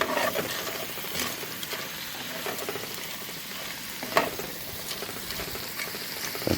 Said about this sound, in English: steak, shells, onion and garlic. We're gonna fry all that just a little bit.